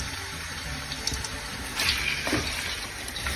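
Mutton pieces dropped straight into hot oil in a pan for a Pakistani shahi mutton pulao, giving a steady hissing sizzle with a brief louder burst midway.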